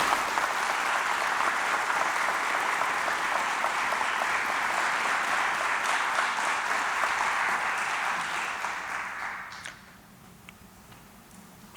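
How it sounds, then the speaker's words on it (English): A crowd at a county police academy graduation applauds Class 253, a broad, sustained clapping that holds steady for several seconds, then thins and fades out to quiet room tone. "How about a round of applause for Class"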